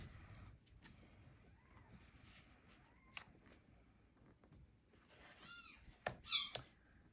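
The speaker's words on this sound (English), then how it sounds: "Can hear the kitties." Faint household background gives way to a couple of short, close cat meows near the end, rising and falling in pitch.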